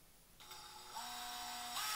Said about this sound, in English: now I'm going to drill the pilot